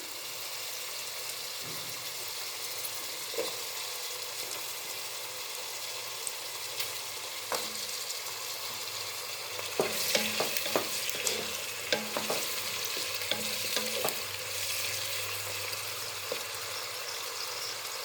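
Potatoes added to a simmering biryani pot, with a soft continuous sizzle and bubbling, broken by scattered sharp clinks and scrapes of stirring that cluster near the middle.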